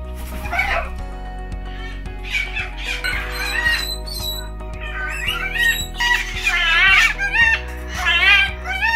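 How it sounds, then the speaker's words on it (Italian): Pet parrots such as macaws and cockatoos screech and chatter in bursts of shrill, warbling calls over steady background music, close and fairly loud. "guardatevi questo servizio dedicato agli ara, i cacatua e tanto altro ancora"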